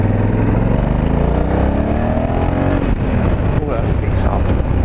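A 2020 Honda Africa Twin motorcycle engine accelerates through its exhaust with a loud, rising drone and wind rush, heard close up with a rider's voice over it.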